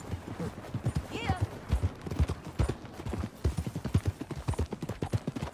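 Horse hooves clip-clop in a steady rhythm under music and voices, with a brief whinny early on, in the video game Red Dead Redemption 2.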